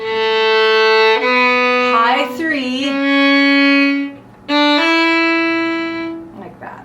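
A bowed fiddle plays a short ascending scale of sustained notes starting from low A, with a brief spoken count partway through.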